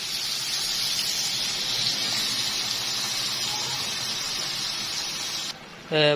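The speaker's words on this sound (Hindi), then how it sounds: "मसालों की भुनाई करने के बाद अब हम इसमें पानी शामिल कर देंगे।" Water poured into a cooking pan over fried spices for a Chicken Paprika dish, a steady close hiss and gush running several seconds before stopping, followed by a brief sizzle.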